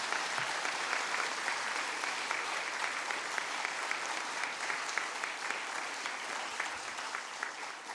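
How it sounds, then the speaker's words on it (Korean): Sustained applause from a church congregation at a mission festival evening, dense, even clapping from a large crowd that carries steadily throughout. "좋으신 우리 하나님께 영광과 감사의 박수 올리겠습니다"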